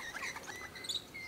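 A small colourful wild bird chirps in quick, bright bursts while being fed outdoors at Loch Sport, the calls fairly close and clear over light outdoor background.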